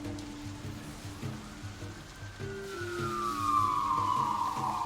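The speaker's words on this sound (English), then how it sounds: "Do we need one that's got like less sirens and things" A library sound effect of an emergency siren: a rising, sweeping wail swells in over a low rumbling, patterned bed of noise and grows louder toward the end, with no voices.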